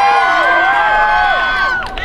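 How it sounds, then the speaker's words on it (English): Spectators at a sword fighting tournament bout shout and cheer loudly and close by. Several voices rise in excited yells throughout the short burst. "The louder you cheer, the harder they fight"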